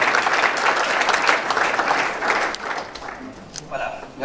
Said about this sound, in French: Monsieur Eugène Kandolo, que je vais inviter sous vos applaudissements.